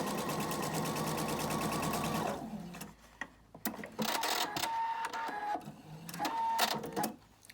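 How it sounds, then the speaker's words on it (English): A PFAFF sewing machine with its IDT feed engaged stitches down seams, running in a loud steady whir at first, then stopping and restarting in shorter bursts with handling clicks between. "So I'm just going to sew down, just go right on over."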